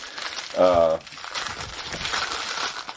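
A short crinkle of a thin plastic bag handled while unboxing a Mezco One:12 Collective Ghostbusters figure, with a quiet voice talking faintly around it.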